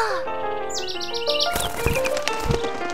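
Cartoon birds chirp in a quick run of high, bright tweets against a busy backdrop of kids' cartoon music and sound effects.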